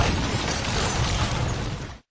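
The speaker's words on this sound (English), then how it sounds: "The explosion just a few feet away." An explosion in a film scene hits as a loud, broadband roaring blast that rumbles for about two seconds before cutting abruptly to silence.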